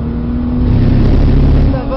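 A Porsche 997 Carrera 2S on a race circuit, its engine droning steadily with a swell in the middle as it accelerates, heard from inside with a voice talking over it.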